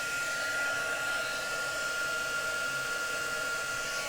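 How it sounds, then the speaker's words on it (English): A loud, steady blowing whoosh of a heat tool runs without pause, a constant hissing airflow with a faint high whine. "heat tool. It's going to be a little bit loud, I'm afraid"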